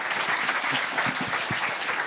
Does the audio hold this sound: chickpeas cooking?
no